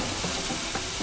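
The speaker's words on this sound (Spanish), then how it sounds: "Ahora volvemos a agregar el pollo a la sartén." Chicken and spinach with vegetables sizzle in a frying pan, a steady close hiss with faint stirring bumps under it, brief and without voices.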